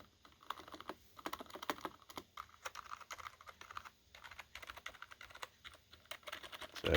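Typing on a SteelSeries Apex 100 keyboard: rapid, irregular clusters of close, crisp keystrokes with short pauses, heard alone without talk.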